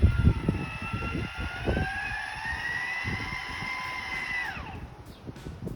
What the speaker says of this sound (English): Hey now, we got a motor that works.